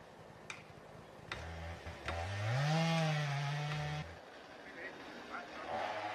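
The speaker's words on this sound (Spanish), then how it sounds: "El sonido de las motosierras nos devuelve al presente." A chainsaw cuts trees in a snowy forest. It revs up and holds a steady, droning whine for about three seconds, heard at a moderate distance and fairly faint, with a few light clicks around it.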